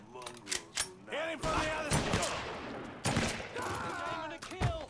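Rifle and gun bursts in the Mafia 3 video game fire as loud rapid shots in repeated clusters, with brief gaps between volleys and a voice heard faintly underneath.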